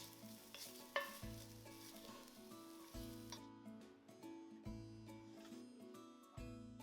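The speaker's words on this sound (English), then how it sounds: "Cook the ginger for about 2 minutes, stirring it so it releases all the aromatic goodness." Ginger cooks in a pot while a spoon stirs it, giving a quiet sizzle broken by repeated scraping and clinking strokes in an uneven rhythm, close by and with nobody talking.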